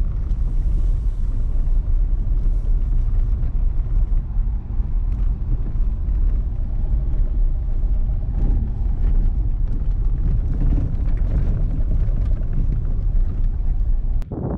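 A car drives uphill toward an ancient city site, its steady, close engine and road rumble mixed with heavy wind buffeting the microphone throughout, with no talking.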